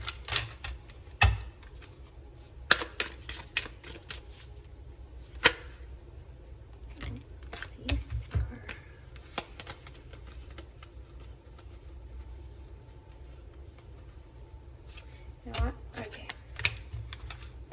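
Numerology cards are shuffled and handled close up, with scattered sharp riffles and flicks at irregular intervals between quieter stretches, and a voice talks at times alongside the card sounds.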